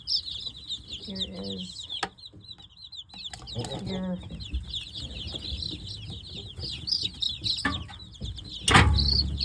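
Meat-breed chicks, a Dark Cornish and a McMurray Big Red Broiler, peep and cluck continuously in a close, busy chorus while being weighed, with brief handling noises and a short spoken remark.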